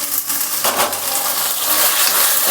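Tomatoes tumble into a hot pan of sizzling cabbage gravy, a loud crackling fry with a burst of spattering as they land, then steady sizzle continuing alone.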